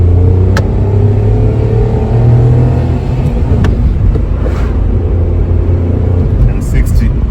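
A Renault Triber family car accelerates hard uphill, its engine droning loud and steady, with the pitch climbing and rumbling throughout.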